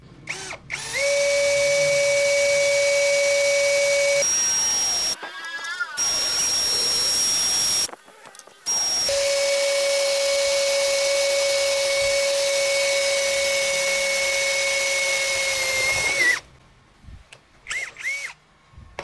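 A DongCheng DCJZ2060i cordless drill fitted with a 6 mm bit runs at low speed through 4 mm iron plate. Its loud, steady motor whine holds for long stretches, broken by short pauses, and then gives way to brief clatter at the end.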